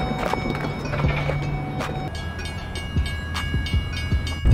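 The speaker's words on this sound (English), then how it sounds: "The train is coming." A train approaches with steady rumbling and rhythmic clacking of wheels over rail joints, a continuous close mechanical roar throughout with a faint tonal hum.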